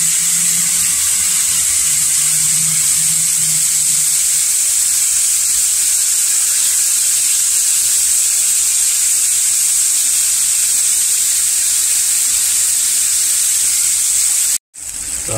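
Floured conch frying in hot oil, a steady loud sizzle and hiss running throughout, with a brief cut near the end.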